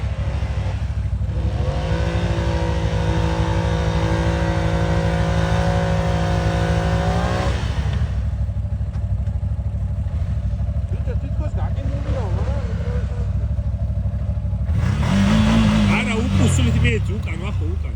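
A CF Moto vehicle's engine revs hard in snow, rising in long, loud whining sweeps that fall back to a rough idle before surging again, with voices nearby.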